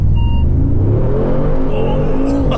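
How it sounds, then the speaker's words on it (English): A 2020 Mercedes-AMG G63 accelerates at full throttle on a test track, a loud, close engine roar rising steadily in pitch with a deep rumble throughout. "Full acceleration, and at my line you will do a full braking"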